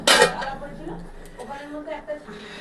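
A metal pot lid comes off during home cooking with a short, bright clatter right at the start, followed by someone talking over faint kitchen sounds.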